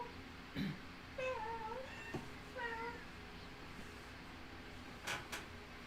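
A cat meows a few times nearby, drawn-out and insistent, with quiet pauses and a faint knock or two in a quiet room.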